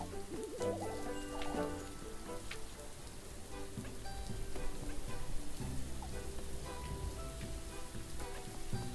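Rain falls steadily on surfaces as a constant hiss and patter, with faint tonal sounds underneath.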